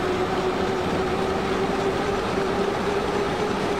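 Steady rolling rumble of a kilometre-long freight train underway in Transport Fever 2, a continuous broadband roar with a faint sustained tone, heard from on board with no talk.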